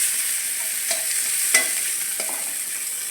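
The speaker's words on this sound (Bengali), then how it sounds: "এবারে তেলে রসুন কুচি দিয়ে দেবো।" Chopped garlic sizzles in hot oil in a pan, a soft steady frying hiss with a few stirring clinks, close by with no talking.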